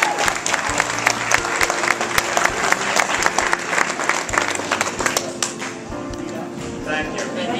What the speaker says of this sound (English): let's give them a big round of applause when they do